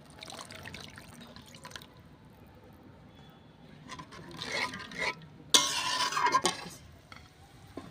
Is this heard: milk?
yes